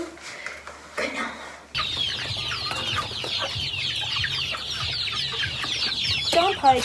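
Chickens cluck and cheep close by in a busy, continuous chorus of overlapping calls, after a quieter opening moment.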